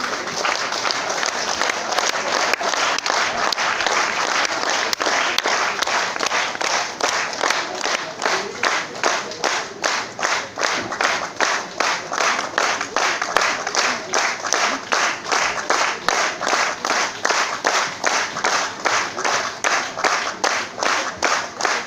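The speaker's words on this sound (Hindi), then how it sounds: "तालियां जब भी बजाएं थोड़ी मर्दों वाली बजाएं सर" Seminar audience at an RCM business meeting in Bhilwara, Rajasthan, clapping loudly and continuously; the applause becomes a strong, regular rhythmic beat in unison partway through.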